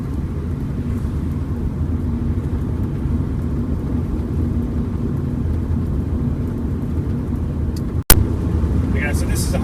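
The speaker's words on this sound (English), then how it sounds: "Okay, so this is 100 kilometers an hour at an even throttle, just cruising along." Subaru EA82T turbocharged car cruising at a steady 100 km/h on an even throttle, a continuous low engine and road rumble inside the cabin, steady throughout with a brief sharp click near the end.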